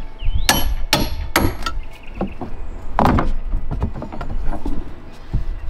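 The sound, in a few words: prying deck boards with hammer claw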